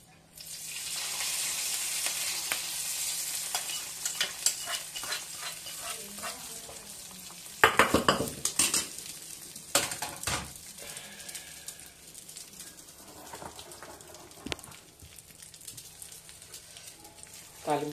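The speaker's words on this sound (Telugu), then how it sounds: "తాలింపు వేసేసాం కదా, చక్కగా తిప్పేసుకున్నాం." Tempering for gongura chutney sizzles and crackles steadily in a pan as it is stirred, with louder bursts of scraping and spattering partway through, all fairly close.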